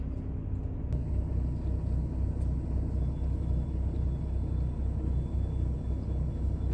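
A truck engine rumbles at a crowded, chaotic customer site. The drone is steady, low and loud, idling without change for several seconds, with a faint high hiss over it and no voices.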